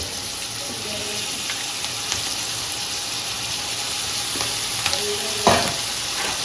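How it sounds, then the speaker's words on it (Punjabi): Small cut potatoes frying in hot oil, a steady bright sizzle with occasional stirring clinks and scrapes, loud and close throughout. "ਇਹਦੇ ਵਿੱਚ ਹੀ ਆਪਾਂ ਹੁਣ ਪਾ ਦਾਂਗੇ ਜੀ ਛੋਟੇ ਛੋਟੇ ਕੱਟੇ ਹੋਏ ਆਲੂ"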